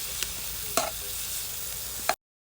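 Onions and garlic sizzle steadily in a hot frying pan, with a few sharp clinks of stirring against the pan and no talking.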